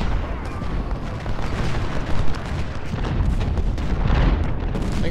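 Field artillery booms again and again in the Civil War strategy game Ultimate General at the Battle of Malvern Hill, with dense, overlapping cannon blasts and rumbling explosions filling the whole stretch at a loud, steady level.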